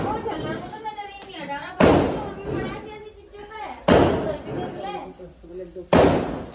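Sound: firecrackers being set off for Diwali

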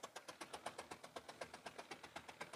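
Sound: old tractor engine running at a steam and gas show

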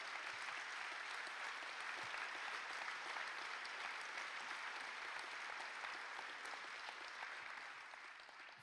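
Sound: applause at party event

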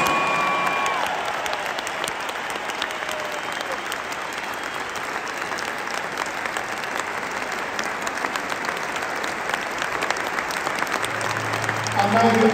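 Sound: stadium crowd applause

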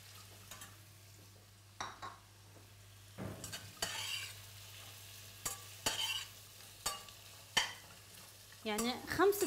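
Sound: carrots frying with onion and garlic in a pan

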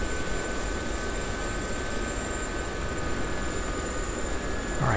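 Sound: UH-1H Huey helicopter flying low, from video game DCS World

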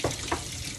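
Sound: tap water running while warming up

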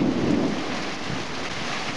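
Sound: thunderstorm with rain

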